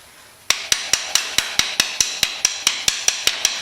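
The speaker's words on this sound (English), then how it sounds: "Tap it in with my kind of multi-purpose hammer" Steady series of about fifteen sharp metallic taps from a multi-purpose hammer driving a bolt into a Honda Rancher 420 ATV during a lift kit install, evenly spaced, close and clear with no talk.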